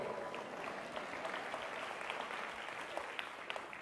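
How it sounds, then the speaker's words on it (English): Listeners at a large Reform Jewish biennial convention applaud during a keynote address. Soft, diffuse clapping from a big hall stays steady and fairly faint throughout, with no talking over it. "you can clap,"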